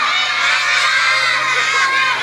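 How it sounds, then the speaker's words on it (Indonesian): Children shouting together, a dense and steady burst of high, excited voices that stays loud for the whole stretch. "Kenapa pada teriak-teriak?"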